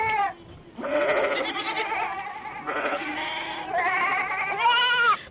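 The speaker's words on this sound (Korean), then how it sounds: "축산 2분장에서 기르고 있는 이 잔앤종 염소" Saanen goats on a livestock farm bleat close by in four or five loud, drawn-out calls that follow one another with only brief pauses between them.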